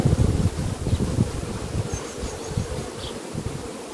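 Honeybees hum steadily over an open hive frame with brood during an inspection, a dense close drone with faint wind noise and no talk.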